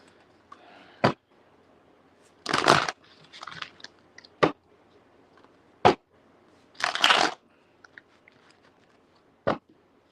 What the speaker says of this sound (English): shuffle these up too.